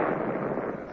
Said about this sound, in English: That's cannon shot, Your Grace.